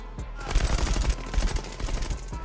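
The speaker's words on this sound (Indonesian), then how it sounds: "Dan terjadilah adegan tembak-menembak." Rapid bursts of automatic gunfire from a shootout scene in the Indonesian action film The Raid, a dense, loud volley of overlapping shots with no talking.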